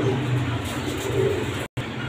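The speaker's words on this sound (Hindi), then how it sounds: "लाल परी क्रॉस पे से कबूतर है माशाल्लाह" Golden Kamagar pigeons coo softly and repeatedly nearby, low throaty murmurs over a steady background hiss, with a brief dropout near the end.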